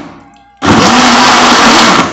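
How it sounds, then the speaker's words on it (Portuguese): Kitchen blender pulsing whole juice ingredients to break up the fibres; after a faint lead-in, the motor kicks on abruptly into a loud, steady whir and holds for over a second and a half, with no talk. "Vou pulsar primeiro, porque deixei o inteiro, eu prefiro pulsar, para não ficar o liquidificador, eu pulso."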